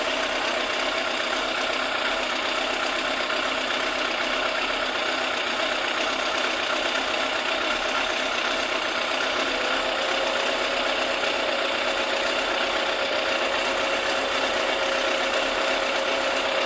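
Yamaha FZR1000 EXUP motorcycle engine idling steadily during carburettor balancing, a constant close mechanical hum with light rattle and no talk over it.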